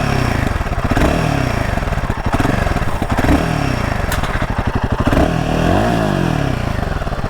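Royal Enfield Himalayan 450 motorcycle engine revved up from idle, a close, loud throbbing exhaust rising and falling through several throttle blips with mechanical clatter underneath.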